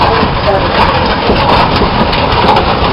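A 20 horsepower Minneapolis steam traction engine runs steadily at a harvest reunion show, giving a continuous loud rumbling drone that stays level throughout.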